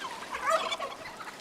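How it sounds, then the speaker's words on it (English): A brief burst of turkeys gobbling, a rapid warbling chorus of several birds at moderate distance, lasting barely a second and a half. "Juicy turkeys"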